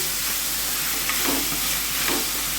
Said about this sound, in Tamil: இப்போது 2 தக்காளி நல்ல பழமாக சின்ன சைஸாக கட் பண்ணியிருக்கேன், அதையும் சேர்த்துக்கலாம்